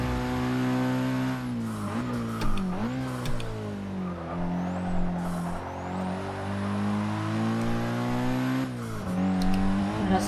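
Race car engine in Forza Motorsport 6 while lapping with driving aids, a steady loud drone that rises and dips through gear changes, with brief tire squeals and no voices.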